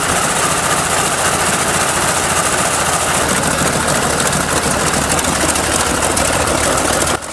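A restored 1925 BMW V12 46.9 litre aircraft engine runs loud and close in a continuous deep, even drone with steady pulsing throughout.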